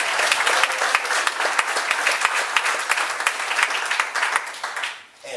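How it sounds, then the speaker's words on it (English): Warm, sustained audience applause at a community and police town hall, with crisp individual claps standing out, holding steady for several seconds before fading away. "So let's give a warm round of applause."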